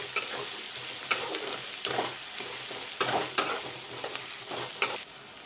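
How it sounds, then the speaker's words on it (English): Finely chopped onions fry in a pan for a Bengali-style potato curry, giving a steady soft sizzle broken by several stirring scrapes and clicks at irregular intervals, close and moderately quiet, with no talking. "You can see the onions chopped up very fine. Let the onions fry."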